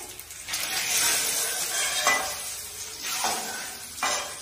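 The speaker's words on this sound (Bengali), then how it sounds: "এবার ইয়েটা করি, হ্যাঁ, আলুটা ভেজে নিই" Potatoes frying in oil in a home kitchen, a loud broadband sizzle punctuated by several sharp stirring scrapes and clinks of a spatula against the pan.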